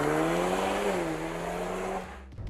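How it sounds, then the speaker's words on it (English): A Mercedes-AMG exhaust in Sport mode gives a loud close engine burble that rises slightly, then cuts off abruptly near the end with a brief crackle. "now I'm in Sport mode. So you can hear it starts barking."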